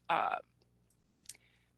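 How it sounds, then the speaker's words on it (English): A computer mouse clicks while a website is being navigated. A short breathy burst comes first, then a single faint, sharp click in a quiet room. "And I'm clicking the wrong place. I'm clicking on it right here."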